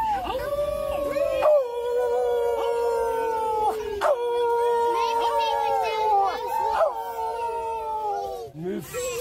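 Several voices, some childlike, imitate wolf howls in long wavering glides that fall in pitch, overlapping one another with short breaks and yips between them.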